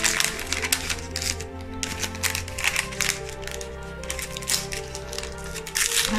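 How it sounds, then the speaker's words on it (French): A paper envelope from a scrapbooking advent calendar is opened by hand, with loud, close crinkling and tearing paper noises in irregular bursts that continue throughout. "Qu'est-ce que nous avons dans cette enveloppe? J'arrive pas à l'ouvrir"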